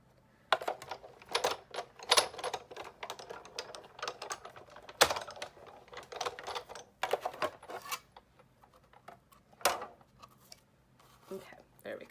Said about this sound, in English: I might cut out one more heart real quick